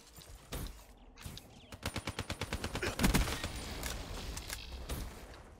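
Automatic gunfire in Black Ops 3 Hardpoint multiplayer: a fast, rhythmic burst of about a dozen and a half rounds lasting over a second, set between scattered single shots and clanks at moderate distance.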